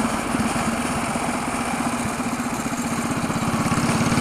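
A mini bike's small engine runs steadily while being ridden, a close, loud buzzing putter with a fast regular pulse throughout.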